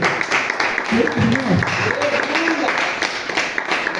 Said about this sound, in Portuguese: Vamos aplaudir Jesus com muita alegria?